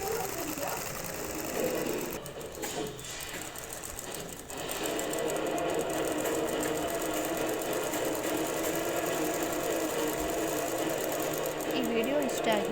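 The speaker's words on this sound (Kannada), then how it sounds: "ಕಿನಾರಿ ಸ್ಟಿಚಿಂಗ್ನ ಮಾಡ್ಕೊಳ್ಳಿ ಲೈನಿಂಗ್ ಬಟ್ಟೆ ಮೇಲೆ" A sewing machine stitches a kinari border onto the lining fabric of a blouse for a puff-sleeve design, whirring steadily for most of the stretch with a brief dip early on.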